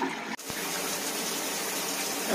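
Water runs steadily from a hotel room shower in a non-smoking single room, a continuous close hiss with a brief dip near the start.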